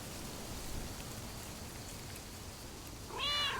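A cat meows near the end of the Lake video game scene, set against a steady wash of rainfall that runs the whole way through. The meow is a brief, clear, fairly close call.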